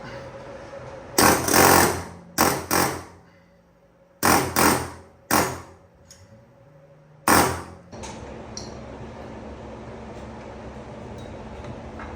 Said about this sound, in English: I'm gonna air hammer this quick and just get it to move a little